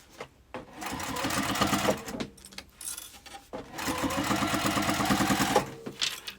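A sewing machine fitted with a topstitch needle runs top stitching on a thick sling bag, its rapid rhythmic needle clatter close and loud in two main bursts separated by a short pause.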